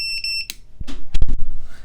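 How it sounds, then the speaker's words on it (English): A FullSpeed Leader 3 SE electronic device gives a short run of rapid high-pitched beeps, loud and close, followed by thumps and handling noise. "Okay, so something is set up that's causing it to beep."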